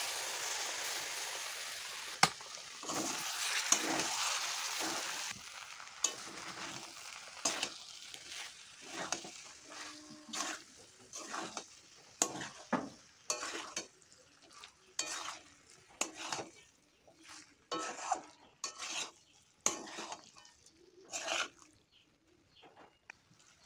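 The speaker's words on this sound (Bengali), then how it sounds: "বেশ কিছুক্ষণ সময় নিয়ে আমি এটাকে কষিয়েছি।" Jackfruit (echor) with poppy seed being stir-fried in a pan, a steady sizzle with repeated scraping strokes of a spatula in an irregular rhythm, close and moderately quiet.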